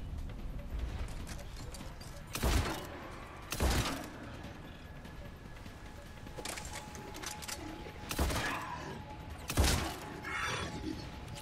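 Shotgun blasts against husks in Mass Effect 3, four or five loud, sharp booms spaced a second or more apart over a steady background hum of game ambience, with no voices.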